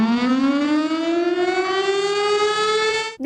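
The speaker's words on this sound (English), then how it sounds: "The next sound is a tornado siren, which obviously warns people when a tornado might be in the area." A tornado warning siren wails steadily, one long loud rising tone with strong harmonics that holds for over three seconds before cutting off abruptly, with no other sounds.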